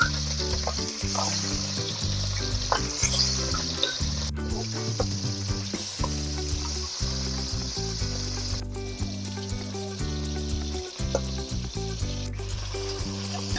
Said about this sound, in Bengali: তেল গরম হয়ে গেছে, এবার আমি তেলের মধ্যে এক এক করে মাছগুলো ছেড়ে দিচ্ছি।